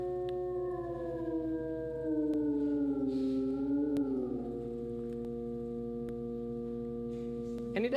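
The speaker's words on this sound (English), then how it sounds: "now we're back at our base frequency, and now let's add the overtones" A steady synthesized tone with added overtones holds a sustained hum of stacked harmonics that dips slightly in pitch and wavers midway, fairly loud and continuous with no talking.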